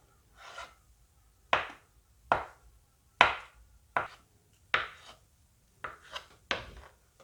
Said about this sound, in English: Here I have 6 large boiled eggs, so I'm just going to cut those up and chop them into a rough chop